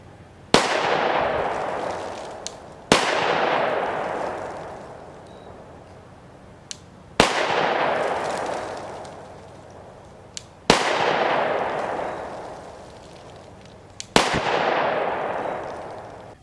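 Five loud, sharp gunshots from a compact Glock G29 10mm pistol, fired outdoors at a steady pace a couple of seconds apart, each leaving a long ringing decay with no talk.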